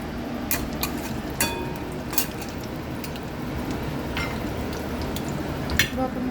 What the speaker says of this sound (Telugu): ఆయిల్ వేట్ ఎక్కిందండి ఇప్పుడు మనము ఒక హాఫ్ స్పూన్ మినపప్పు స్పూన్ ఆవాలు యాడ్ చేసుకున్నాము